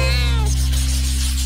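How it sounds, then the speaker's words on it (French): A single drawn-out cat meow in a cartoon, clear and close, over a steady low electrical hum that continues after it. "Miaou!"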